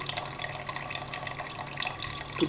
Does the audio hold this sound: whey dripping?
yes